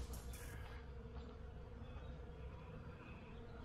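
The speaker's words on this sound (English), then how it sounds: "I can hear the tree actually vibrating, like really. There's a lot of bees in there" A low, faint, steady buzz of many bees inside a tree fills the background, continuous and diffuse, with no voices.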